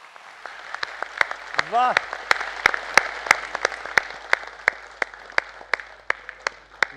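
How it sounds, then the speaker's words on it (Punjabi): Loud applause from a studio audience after a performance at a DD Punjabi 22nd anniversary celebration show, with sharp claps sounding throughout and a voice briefly calling out over it. "ਜ਼ੋਰਦਾਰ ਤਾੜੀਆਂ"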